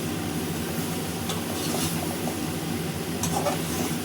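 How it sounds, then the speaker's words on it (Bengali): Fish frying with potatoes and spices in a pan, a steady close sizzle with occasional stirring scrapes and no talk. "এই মাছ এভাবে ভাজি করলে বেশ মজা হয়"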